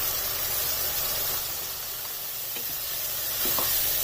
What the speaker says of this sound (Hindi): अब इन मसालों को और लहसुन अदरक की पेस्ट को इसमें 3 से 4 मिनट तक भून लेना